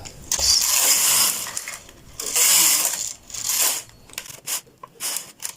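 A domestic knitting machine knits a row across all needles, its carriage swept in loud rattling, clacking passes separated by short pauses and small mechanical clicks.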